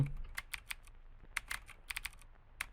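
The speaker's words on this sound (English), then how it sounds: "Don't make fun of my typing speed." A computer keyboard is typed on in slow, uneven bursts of sharp key clicks, close and fairly quiet, with no talking.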